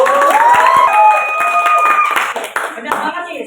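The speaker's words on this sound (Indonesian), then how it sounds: "Tepuk tangan dulu dong." Classroom audience clapping for a peer-teaching lesson, a dense burst of applause that runs the whole moment while voices speak over it.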